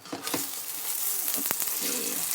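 An omelette fries in a pan, giving a steady close sizzle with a few sharper pops and crackles running under it.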